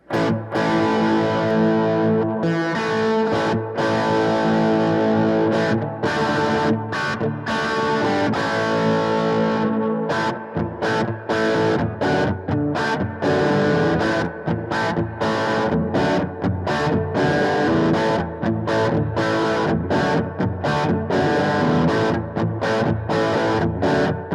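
Electric guitar on the bridge pickup through an Orange Tiny Terror amp with gain boosted, playing a heavy overdriven riff of sustained chords broken by sharp stops, loud and saturated with reverb.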